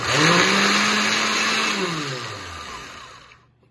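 A blender whirls a vegan tikka mixture seasoned with pink salt: one loud close burst of motor whine that holds steady, then drops in pitch and winds down to silence near the end.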